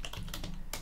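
A short burst of key presses on a computer keyboard, a few quick close taps in a row with a faint hum beneath.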